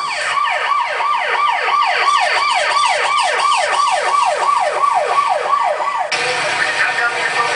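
A loud ambulance siren wails in a rapid rising-and-falling pattern, repeating steadily and close by, then cutting off into road noise, on flooded streets in Metro Cebu.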